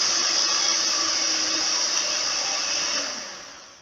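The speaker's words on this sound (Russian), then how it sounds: "Теперь масло мы взбиваем по одному яйцу. И вбив все яйца, мы взбиваем еще 1 минуту." Electric mixer whirring steadily as eggs are beaten one at a time into creamed butter and sugar for Viennese cookie dough, a continuous close, even motor drone that eases off slightly near the end.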